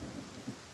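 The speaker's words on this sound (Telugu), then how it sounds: "వర్షం కురుస్తోంది రా" Steady rain falls with a low rumble of thunder in a short, fairly quiet stretch, the wash of rain constant and no one speaking.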